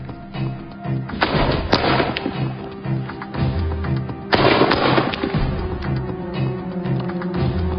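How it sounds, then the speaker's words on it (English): Two loud booming blasts from a .69 caliber smoothbore musket fired during a 70-meter accuracy test, each followed by a long rumbling decay, with the second shot about three seconds after the first. "6 shots apiece at 70 meters. First, the smoothbore musket."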